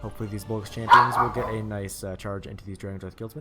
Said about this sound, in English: I do apologize if you hear that dog barking.